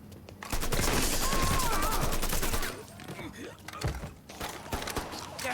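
Loud, rapid bursts of automatic gunfire in the video game Mafia III, a dense fusillade for a few seconds followed by scattered quieter shots, with someone talking.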